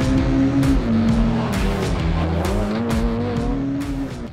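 A BMW race car engine revs hard and loud up close during a hill climb in Italy, with rapid gear changes and rising and falling pitch plus tyre squeal, and no talking.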